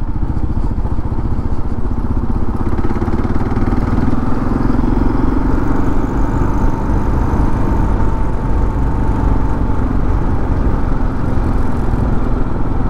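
A 2022 Kawasaki KLR 650 adventure motorcycle engine throbs steadily up close while riding on a gravel road, with a constant low rumble and clattery, crunchy texture throughout, no talking.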